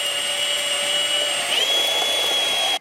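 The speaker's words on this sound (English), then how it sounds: "I'm going to use this really long drill bit just to drill a hole between there and there" A very long drill bit bores a hole through a guitar body between two cavities, giving a steady high-pitched whine that holds for nearly three seconds at close range before cutting off abruptly.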